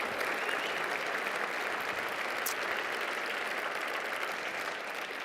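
An award dinner audience applauds, a dense, sustained wash of many hands clapping at even loudness throughout, heard from within the room with no talk over it.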